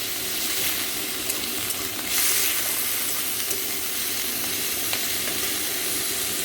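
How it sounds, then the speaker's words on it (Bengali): Chicken pieces fried in a pan for chicken chow mein, a loud, constant close sizzle and hiss with faint occasional scrapes, steady throughout. "মাংসটাকে কষে নেবো ভালো করে মাংসটাকে কষে নেবো চাউমিনে।"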